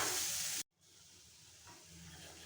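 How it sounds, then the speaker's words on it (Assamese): Whole cumin, coriander, ginger, garlic and peppercorns sizzle in a pan: a loud hiss for half a second cuts off abruptly, then a softer, steady sizzle continues. "এইখিনি আৰু অলপমান ভাজিম 2 মিনিটমান এইখিনি ভাজি ল'ম মছলাখিনি একেলগে"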